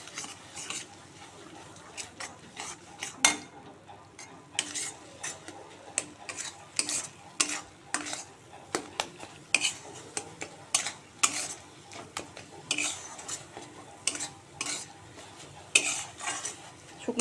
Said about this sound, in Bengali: শুটকি মাছ বাটাটা দেওয়ার পর ভালো করে কষাতে হবে শুটকি মাছটাকে।